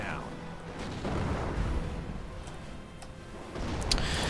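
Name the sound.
artillery fire in Company of Heroes video game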